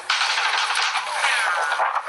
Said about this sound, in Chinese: 以军竟对着采访团开枪